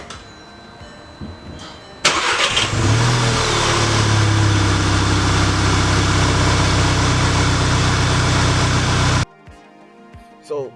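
A Volkswagen MK6 GTI, fresh from engine and transmission mount replacement, cranks and fires with a sharp rev, then settles into a loud, even run before cutting off abruptly near the end.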